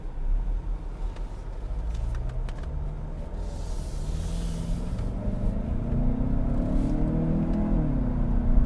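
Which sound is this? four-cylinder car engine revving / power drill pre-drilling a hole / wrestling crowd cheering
four-cylinder car engine revving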